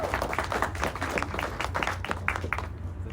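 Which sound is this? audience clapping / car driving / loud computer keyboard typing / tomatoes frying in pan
audience clapping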